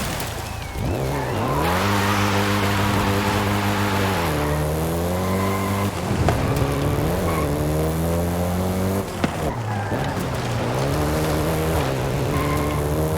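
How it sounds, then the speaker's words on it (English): A Volkswagen Golf GTI engine driving in Forza Horizon 5, revving up through the gears with rising pitch sweeps and shifts, loud and steady under a voice talking throughout. "including the Golf GTI you're driving right now"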